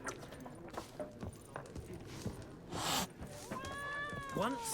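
A cat meows in The Witcher 3, a short rising-and-falling cry near the end over a busy bed of game sounds, hoof-like clops and background noise.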